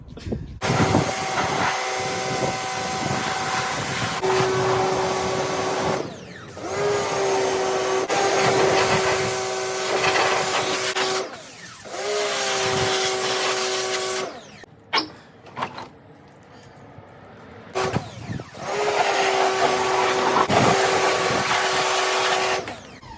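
A pressure washer used on a rusty racing lawnmower project, running in several long, loud bursts of motor whine and rushing spray, separated by short pauses, close to the listener.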